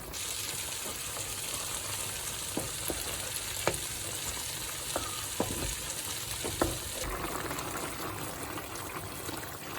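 Okra and meat stew simmering in a pot, giving a steady close bubbling sizzle throughout, with a few soft clicks of a utensil against the pot.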